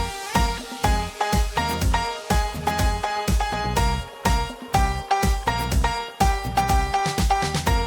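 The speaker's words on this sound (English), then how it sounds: "For this I'm using the House Piano Bright preset from Omnisphere that comes incredibly close to the original." A bright, dry house piano synth, Omnisphere's House Piano Bright preset, plays a bouncy chord pattern with punchy, evenly repeating stabs and a steady rhythm, no effects or voices.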